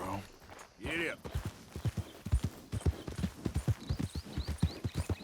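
Rhythmic hoofbeats of a horse in the video game Red Dead Redemption 2 clip-clop steadily at a walking pace, with a brief whinny early on and faint high chirps in the background.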